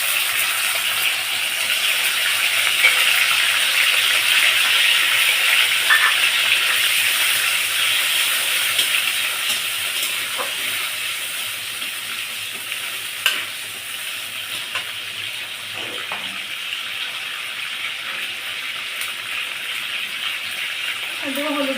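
Ginger and cumin paste frying in hot oil for muri ghonto, a steady soft sizzle and hiss running throughout with occasional faint stirring clinks.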